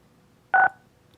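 A single telephone keypad tone, about a sixth of a second long, as a caller follows the prompts on a public comment line. It sounds clearly and alone, with quiet line hiss before and after.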